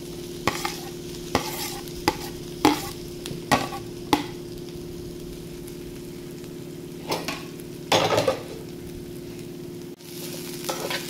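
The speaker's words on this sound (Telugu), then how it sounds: "ఇప్పుడు ఇందులోకి ఇందాక ప్లేట్లో తీసి పెట్టుకున్న అరటికాయలు వేద్దాం" Raw banana pieces tumble into a pan of frying onions and get stirred over medium flame, a faint sizzle under a series of scattered scraping and clinking spoon strokes against the pan.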